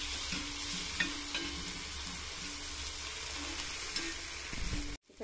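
Onions fry on a tawa for tawa pulao, a dense, even sizzle with occasional stirring scrapes, steady and close until it cuts off abruptly near the end.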